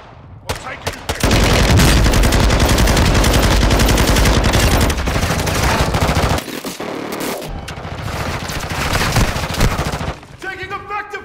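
Sustained, loud automatic gunfire in a military shooter game, dense bursts and rapid volleys dominating most of the span, easing into lighter shots and scattered reports near the end.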